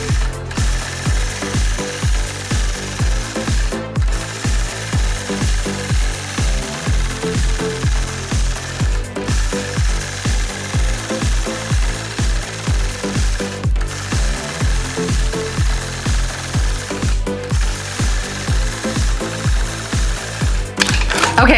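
A sewing machine stitches free-motion quilting in big bumps, a steady rapid mechanical chatter running continuously and close, broken by a few brief clicks and pauses, with no voices.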